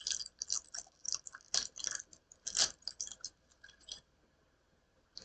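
A Greek snack, gum-like in appearance, chewed close to the microphone with moist crunchy bites in an irregular rhythm that tapers off toward the end.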